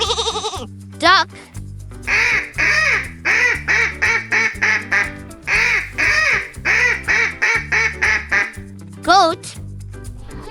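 A duck quacks in a long run of quick, evenly paced calls in two bursts over a looping background tune, near and loud, with brief synthetic sweeps at either end.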